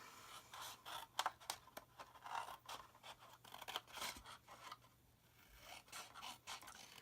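Scissors snipping through paper in a papercraft box project, a series of soft, close, irregular cuts and rustles spread through the quiet stretch.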